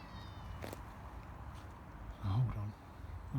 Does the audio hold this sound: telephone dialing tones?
no